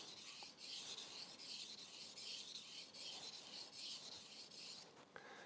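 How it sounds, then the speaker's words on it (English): A kitchen knife is drawn over a wet sharpening stone at a 12 to 15 degree angle, giving a steady, hissing rasp in regular strokes, close and even, with no talking. "Trying to maintain even contact with the blade and the sharpening stone."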